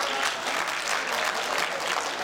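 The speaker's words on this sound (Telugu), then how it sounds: "ఒక్కసారి అందరు గట్టిగా చప్పట్లు కొట్టండి ప్రోగ్రామ్ స్టార్ట్ అయ్యే ముందు." An audience at a Ugadi cultural celebration applauds, dense steady clapping filling the hall loudly and evenly for a couple of seconds.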